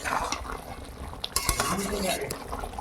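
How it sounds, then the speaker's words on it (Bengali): Beef chaap being stirred in a pan, metal spoon scraping and clinking against the pan with a soft sizzle beneath, irregular strokes up close and a voice faintly in the background. "ভালো করে নেড়ে নেব। দেখুন বন্ধুরা, আমি এইভাবে এটাকে কষিয়ে নেবো"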